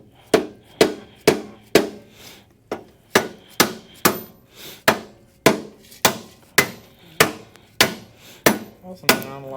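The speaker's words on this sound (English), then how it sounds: "All I'm doing is shaving the paint off the inside of the holes" Sharp, evenly spaced knocks ring out about twice a second, each a crisp hit with a short decay, as paint is chipped and shaved from the inside of the holes on a motorcycle frame.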